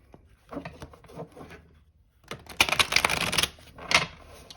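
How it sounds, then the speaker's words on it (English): Rapid papery riffling and clicking of tarot cards being shuffled, two bursts separated by a short pause, close and fairly crisp. "Okay, we'll do one last shuffle."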